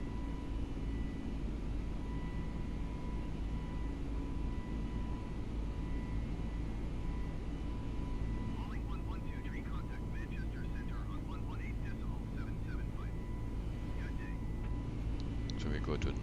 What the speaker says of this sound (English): rattle of the engines, very nice